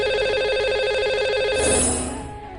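A telephone rings in a steady electronic tone for about a second and a half as a radio show dials its lucky caller, then cuts off into a brief burst of line noise.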